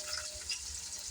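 Onion frying in hot oil with mustard seeds, a steady close sizzle with crackling hiss throughout a brief moment, no voices.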